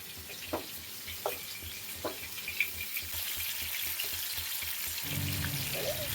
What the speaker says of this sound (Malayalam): കൂട്ടി തിരുമ്മി വെച്ചിരുന്ന ചിക്കൻ ഞാൻ വെളിച്ചെണ്ണയിൽ പൊരിക്കാനിട്ടിരിക്കുകയാണ്